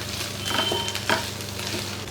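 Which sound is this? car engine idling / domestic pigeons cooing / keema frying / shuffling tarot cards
keema frying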